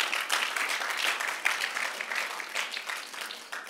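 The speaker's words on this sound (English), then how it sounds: "let's give them a round of applause real quick." A church congregation claps in steady, dense applause that fills the room, holding at an even level for several seconds without voices on top.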